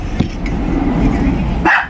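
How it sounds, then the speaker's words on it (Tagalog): A dog barks nearby in a short, loud burst, with a car sound and other background noise around it. "Yung aso natin tumatahol."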